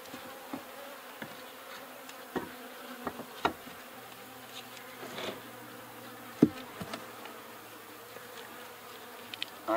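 Honeybees buzzing inside a horizontal beehive during a spring inspection after winter, a steady close insect drone with scattered louder passes and faint knocks of frames being handled.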